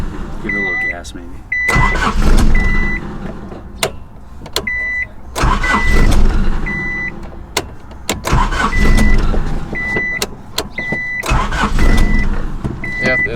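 An old, rusty Honda Civic at altitude in Colorado cranks repeatedly without catching, with a rhythmic churning starter in several long attempts and short pauses, close up, while people talk over it.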